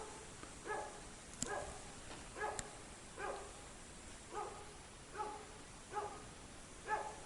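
A dog barks repeatedly at a steady, unhurried rhythm, roughly eight barks, sounding faint and distant near a rural log cabin, with no voices.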